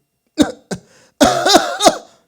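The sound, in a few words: cough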